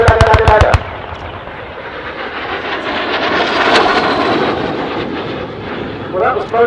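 A Mikoyan-Gurevich MiG-15 jet making a diving rocket-run pass at the Dunsfold Wings and Wheels 2018 air show, a loud broad roar swelling and fading over several seconds while a commentator talks over it.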